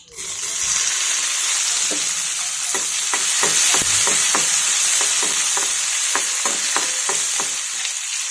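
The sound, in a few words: tomatoes frying and being stirred in a pan with garlic and cumin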